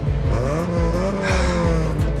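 A Jaguar in a film car chase screeches through a close, loud tire squeal over a revving engine whose pitch shifts several times through gear changes.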